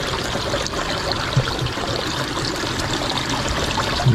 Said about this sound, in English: So the car is still floating, it's still filling with water.